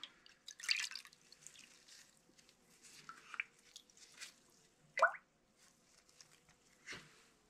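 Water dripping and trickling off a degreased steel axe head after rinsing: faint irregular drips and small splashes with a few sharper plinks, close by, with no talking.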